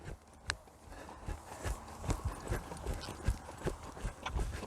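Horse hooves striking the ground at a faster gait while ridden in a halter, a quick rhythmic series of clear thuds, close and steady.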